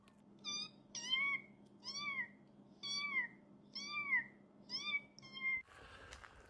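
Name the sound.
man imitating a cat meowing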